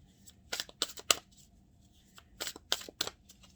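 Tarot clarifier cards being shuffled by hand in two bursts of riffling, crisp papery flutters close by and fairly quiet, with a short pause between.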